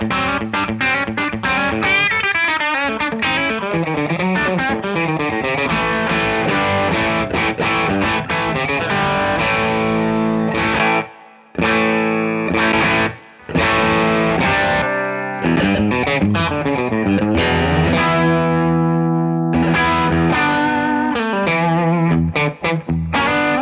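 Electric guitar played through a Wampler Pantheon overdrive pedal, crunchy distorted chords and riffs ringing out loud and close with a couple of brief pauses, no talking.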